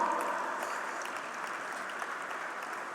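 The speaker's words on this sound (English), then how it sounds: "please give a round of applause and welcome Dr. Pramod Sawant, Honorable Chief Minister" Convention audience applauding to welcome the chief guest, a steady wash of clapping throughout at moderate, slightly distant volume with no talk over it.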